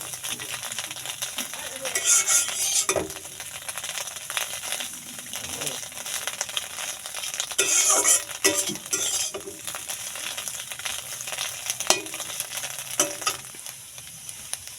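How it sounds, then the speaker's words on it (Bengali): Pieces of stale roti fry in a little oil, crackling and sizzling steadily with repeated bursts of spatula stirring and scraping against the pan. "কতটা অল্প তেলে আমি রান্না করে নিচ্ছি"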